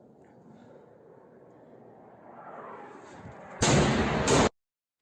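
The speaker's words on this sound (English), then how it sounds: "there you could hear the explosion of the of the missile as it flew into the city" Missile striking the city of Lviv in wartime, a rising distant rumble that ends in a sudden, loud, broad blast lasting about a second before cutting off abruptly.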